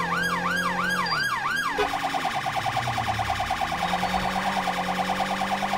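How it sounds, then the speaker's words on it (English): Police car sirens in GTA 5 wail loud and continuous, first a slow rising-and-falling wail, then switching to a rapid yelp, with a vehicle engine running underneath. "Oh, he's heard our sirens."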